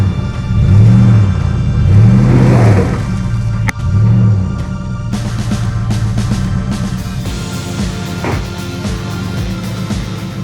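An overlanding vehicle stuck in deep mud in the southern San Juan Mountains revs its engine hard, loud and close, rising and falling in repeated surges as it strains for traction, with rumbling and whirring throughout and no talk.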